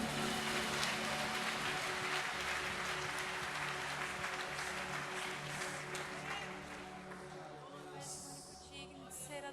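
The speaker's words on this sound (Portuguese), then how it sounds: "aplauda esse Deus maravilhoso" A church congregation applauds during a celebration worship service, a dense, steady wash of clapping that fills the whole stretch and eases slightly toward the end, with voices mixed into the crowd noise.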